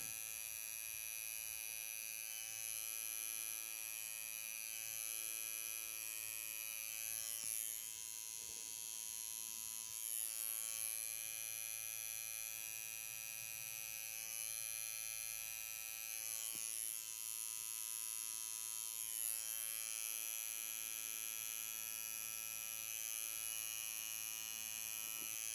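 A tattoo machine buzzes steadily and closely while shading a lily design with fine rastelado finishing. The whine holds an even pitch with slight surges throughout and carries no talking.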